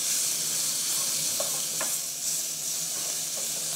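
Onions are stirred and scraped in a hot pan, a loud steady sizzle with faint scraping strokes underneath, heard close with no voices.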